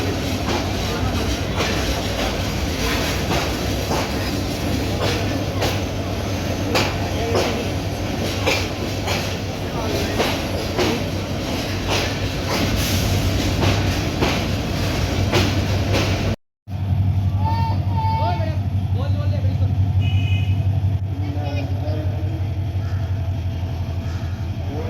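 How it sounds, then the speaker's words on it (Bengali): The Parabat Express rolls from Sylhet toward Kulaura junction, heard from inside as a steady rumble with repeated rail clicks and faint wheel squeals. After a brief cut the ride continues more quietly. "আমাদের ট্রেনটি সিলেট থেকে বিকেল 4টা 1 মিনিটে ছেড়ে কুলাউড়া জংশন প্রবেশ করে বিকেল 5টা 10 মিনিট।"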